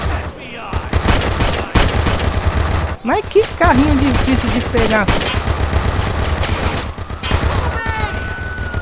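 Rapid bursts of automatic gunfire rattle through a GTA game session with an Ant-Man mod, loud and repeated, mixed with crashes and game effects while someone talks over the action.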